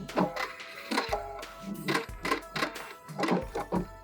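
A sewing machine runs in short bursts as it back stitches layers of fabric for slippers, each burst a quick whirring rattle separated by brief pauses and clicks.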